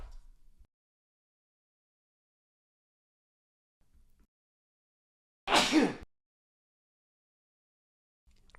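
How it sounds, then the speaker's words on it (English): One short, sharp burst of breathy noise, like a sneeze, stands out in near silence, with faint thumps before and after. "I had to sneeze there for a second"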